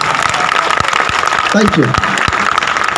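Dense audience applause from a crowd at a motivational talk, a steady wash of clapping that runs the whole time under a voice briefly speaking.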